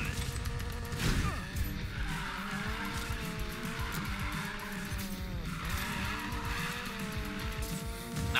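Racing car engine roaring with tire skids and squeals in Need for Speed Payback, a steady loud engine drone with sliding screeches throughout and a sharp impact early on.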